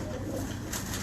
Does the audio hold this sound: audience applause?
no